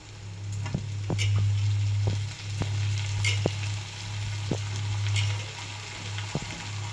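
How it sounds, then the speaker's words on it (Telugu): Brinjal pieces frying with onions in a pan, a steady loud sizzle running throughout with occasional sharp clicks and taps of a stirring spoon against the pan. "ఇప్పుడు మనం ఆల్రెడీ కడిగి పెట్టుకున్న వంకాయ ముక్కల్ని ఇందులో వేసేస్తున్నాము"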